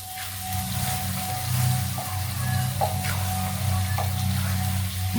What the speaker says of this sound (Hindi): अब थोड़ी देर इसको मिक्स करेंगे और भूनेंगे मसाले को।